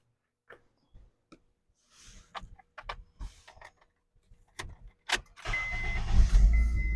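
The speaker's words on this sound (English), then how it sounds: "Let me go ahead start the car again." A 2008 Honda Accord engine is started: a few light clicks and handling noises, then the starter cranks and the engine catches into a loud, steady idle that runs to the end, close by.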